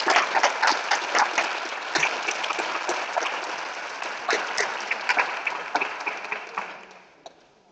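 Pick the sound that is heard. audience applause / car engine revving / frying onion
audience applause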